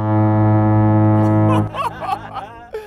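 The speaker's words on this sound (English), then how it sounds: "All right, Ken, fire the normal air horn." A long, loud, steady air horn blast with a deep harmonic drone holds for about a second and a half, then cuts off as people start talking.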